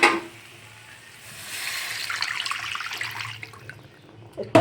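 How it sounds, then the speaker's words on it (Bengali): Water poured into a pan of spiced potatoes for a Bengali katla fish curry, a steady splashing pour that builds for a few seconds and then tapers off, heard close with no talking. "এর মধ্যে এখন আমি জলটা দিয়ে দেবো।"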